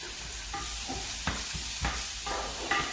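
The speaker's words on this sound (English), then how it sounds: "The onions are now sizzling. They are sizzling really nice." Steady sizzling of onions frying in a pan, with occasional scraping and stirring knocks over the constant crackle.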